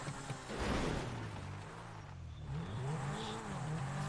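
A motorcycle engine in the video game GTA 5 revs and drones at low volume inside a cave, its pitch rising and falling over a few seconds with a faint rushing background and no talk.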